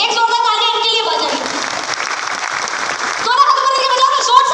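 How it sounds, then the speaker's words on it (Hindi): Audience applause at an RCM women's empowerment event in India, a steady wash of clapping that keeps going for several seconds and swells a little toward the end, with tonal voices or music mixed in. "एक जोरदार तालियां इनके लिए बजाइए"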